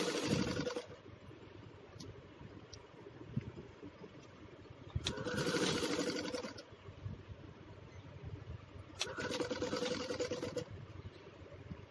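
A sewing machine stitches a layer onto a designer blouse, running in bursts of rapid whirring and rattling with quieter pauses between them, fairly close.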